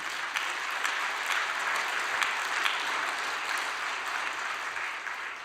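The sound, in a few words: audience applause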